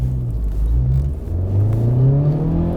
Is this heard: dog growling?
no